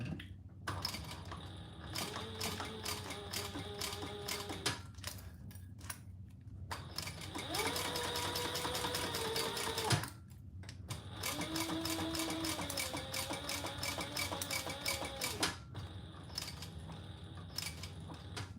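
A sewing machine stitches leather in fast, steady mechanical runs broken by short pauses, its motor whirring and needle clattering rhythmically at close range, with no talk over it.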